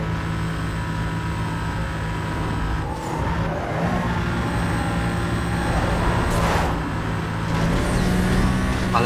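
Race car engines, Porsche Cayman S among them, drone and rev steadily in a Need for Speed Most Wanted race, a continuous loud roar with shifting pitch as cars accelerate alongside.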